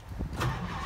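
A 1962 Ford Galaxie's engine cranks and catches in under a second, a short whir rising into a running rumble.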